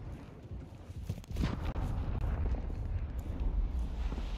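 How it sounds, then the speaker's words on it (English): A cruise missile strike detonates in the video game Modern Warfare 2, a heavy rumbling blast that swells at about a second and a half and then holds as a dense, continuous roar of explosions and debris. "Friendly cruise missile approaching target."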